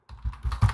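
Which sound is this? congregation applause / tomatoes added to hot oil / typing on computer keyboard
typing on computer keyboard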